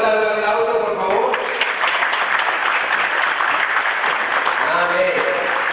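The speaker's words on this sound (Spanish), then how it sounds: "¿Podemos dar un aplauso, por favor?" Wedding guests break into applause after a short spoken passage, the clapping building into a loud, full burst that carries on before tapering as a voice returns at the end.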